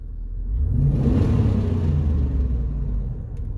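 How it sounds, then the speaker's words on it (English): A 2004 Chevrolet Suburban 2500 engine revs up from idle, its loud, steady low rumble swelling and holding before easing off, with a rattling noise said to come from the engine and no voices over it. "you're gonna hear a rattling when I rev the engine up"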